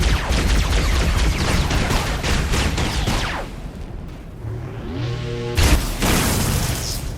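Halo Covenant weapon in a video game firing an EMP blast that disables a vehicle: dense booming gunfire and blasts give way to a rising electronic whine and stuttering tones, then loud action resumes.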